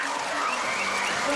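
Arena crowd roaring and cheering continuously at a pre-season basketball game between South East Melbourne Phoenix and Melbourne United as a player is fouled, a dense, loud wash of noise from start to finish.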